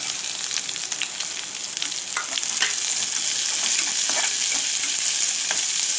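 A large onion fries in a hot pan while being stirred for a Tamil-style sundakkai kara kuzhambu, a steady close sizzle with scattered crackles and pops and no talk.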